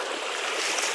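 A brook in a wooded valley rushes in a dense, steady wash of flowing water, close and loud, with no voices over it.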